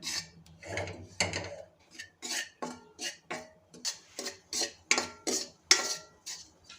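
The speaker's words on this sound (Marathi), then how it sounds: "छान मंद आचेवरती हे पीठ आपल्याला भाजून घ्यायचं आहे" Wheat flour roasting over low heat in a pan is stirred steadily, and a utensil scrapes and rasps against the metal in a regular rhythm of close, distinct strokes.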